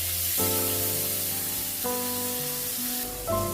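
Tomatoes fry in a pan with fennel (mouri) paste for a vegetarian dish, giving a continuous close sizzle under sustained tonal notes that change pitch a couple of times.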